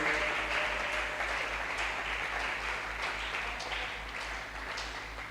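A church congregation claps together in sustained, dense applause, loud at first and easing slightly toward the end.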